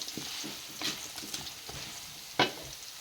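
Meat for pinakbet sizzling in a pan, a close, even fry hiss broken by several soft utensil scrapes and one sharper clack near the end, with no talking.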